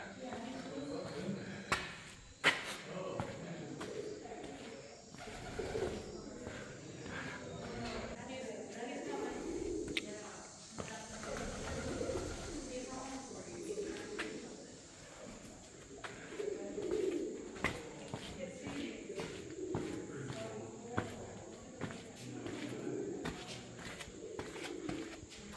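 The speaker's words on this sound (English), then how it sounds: "There's a bunch of birds up in here too." Pigeons coo repeatedly inside the Rock House cave at Hocking Hills, soft low calls echoing in the rock shelter, mixed with footsteps, shuffling and people talking nearby.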